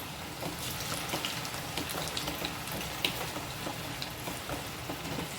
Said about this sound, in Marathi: असा छोटा छोटा भजी घेऊन आपल्याला तेलात सोडायचं आहे हातानेच सोडायचे ते भजी